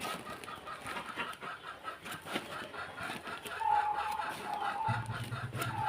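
Chickens and ducks at feeding time, with steady clucking and fowl calls close by, building into a busier, louder stretch of calls toward the end.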